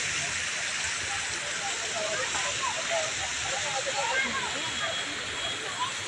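Cool water cascading down at a waterfall on a summer family outing in India gives a steady, close, broadband rush throughout, with faint voices murmuring underneath.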